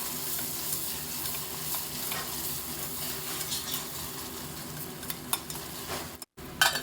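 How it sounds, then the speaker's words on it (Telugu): Ginger garlic paste frying with onions in a pan for mutton gravy curry, a continuous close sizzle with occasional scraping stirs and a few sharper utensil clinks near the end. "ఇప్పుడు ఇందులో మరో హాఫ్ స్పూన్ అల్లం వెల్లుల్లిపాయ పేస్ట్ వేసుకుందాము"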